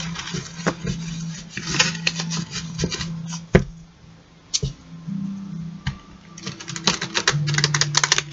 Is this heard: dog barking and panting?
no